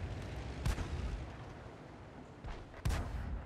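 A tank in a video game firing blind shots, two heavy booming blasts about two seconds apart over a low rumbling battle background.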